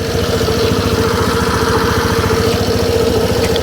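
A Suzuki Burgman Street scooter engine idles close by, a loud, steady, even putter with a constant low hum and no speech.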